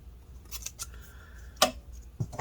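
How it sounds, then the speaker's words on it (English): Scissors cutting a strip of tape during an iPhone 8 home button repair, a few quick close snips with one sharp cut standing out in a short quiet stretch. "And we're going to cut the tape off."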